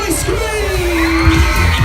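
Riders on a carnival ride at a bonfire-night fair scream together in one long rising and falling wail over loud fairground music, close and sustained.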